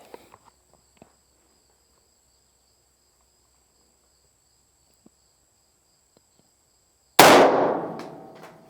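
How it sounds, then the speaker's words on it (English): A .308 rifle round strikes an AR500 steel armor plate outdoors, one sudden loud crack and metallic impact ringing out after a long quiet stretch with faint insect chirps and a few small knocks. "we're going to see if we can get it to fail with the 308"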